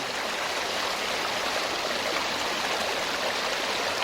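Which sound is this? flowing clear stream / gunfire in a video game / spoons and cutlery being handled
flowing clear stream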